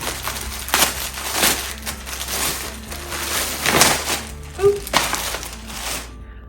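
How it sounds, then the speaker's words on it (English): A skein of Bernat yarn is unwrapped from its packaging, giving close, irregular bursts of crinkling and crackling plastic over several seconds. "yeah, let's unwrap it."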